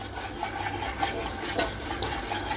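A spoon stirs masala oats seasoned with salt in a pan, scraping and clinking in short repeated strokes over a soft sizzle, close by and with no talk.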